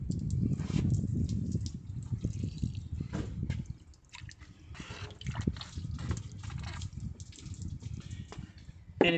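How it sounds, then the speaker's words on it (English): Water poured to rinse spilled AdBlue fluid off the ground beside a Mercedes Sprinter, with irregular splashing, dripping and trickling, close and fairly quiet, no voices. "I'm gonna rinse off this area"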